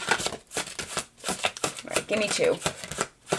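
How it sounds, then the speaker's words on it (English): Cards being shuffled and drawn for a spiritual card reading: quick, papery riffles and flicks that repeat in short bursts under a person's steady speech. "I just keep pulling and pulling cards."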